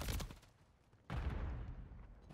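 Assault rifle gunfire in Call of Duty: a quick burst of shots at the start, then a short pause and a second, sustained burst of rapid fire, fairly loud and close with no talk.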